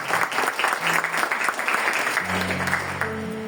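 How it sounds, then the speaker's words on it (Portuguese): A church congregation applauds the reading of the Word at a Portuguese-language Mass, a dense burst of clapping that fades as a held organ chord enters near the end. "Pode aplaudir bem forte a palavra."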